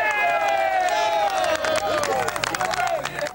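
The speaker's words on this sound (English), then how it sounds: "The cheering in this 1988 shot is from the defendants in yet another mob trial for the jurors who had just said not guilty" Mob-trial defendants cheer in a 1988 courtroom after the jury returns a not guilty verdict, a loud, dense burst of overlapping shouts and whoops with some clapping that keeps going for the whole stretch.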